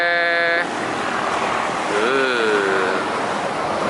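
Ocean surf at a beach rolls as a broad, steady wash of wave noise, loud and close, with a brief tonal voice at the start and another sliding voice partway through.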